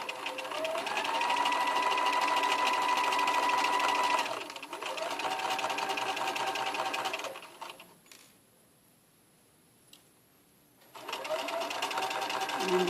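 A sewing machine runs in steady whirring bursts while stitching a patch pocket, pausing briefly between runs and going quiet near the end before starting again; a person talks alongside.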